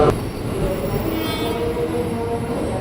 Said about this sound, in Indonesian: ada komuter lain tujuan Ambo